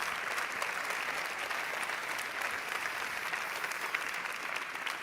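A lecture audience applauding a speaker, dense, steady clapping from many hands that fills the whole stretch evenly.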